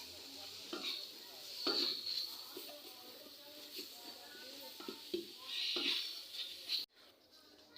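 Spiced chicken filling for cheese rolls stirred and cooked in a pan, giving a soft, continuous sizzle with intermittent scraping and utensil knocks, fairly quiet and close.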